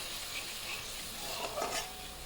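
Masala paste with water, ginger and garlic is stirred in a pan, a brief close scraping and soft sizzle with a couple of louder spoon strokes.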